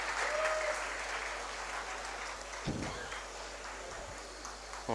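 Audience applause fills a hall at the Jalan Shram Shakti Samman Samaroh 2019 award ceremony: dense, steady clapping that slowly thins, with faint crowd murmur and a brief tone early on.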